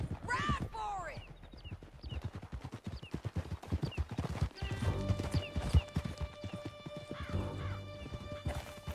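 Hoofbeats of a horse galloping in Red Dead Redemption 2, a rapid clip-clop rhythm running throughout, with a whinny near the start and voices and music layered over the hooves.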